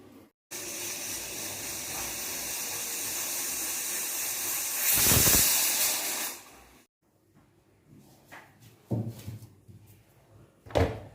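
A pressure cooker cooking dal lets off a loud, steady hiss of escaping steam that swells near the end, then cuts off, followed by scattered kitchen clatter and knocks.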